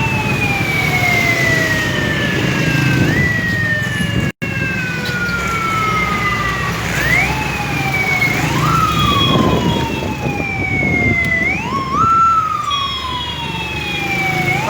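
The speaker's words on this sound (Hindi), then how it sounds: "ये अब ट्रैफिक पुलिस की गाड़ी आ गई है।" A traffic police car's siren wails close by, sweeping up and down in repeated rising and falling cycles over street noise and a passing engine, loud and continuous throughout.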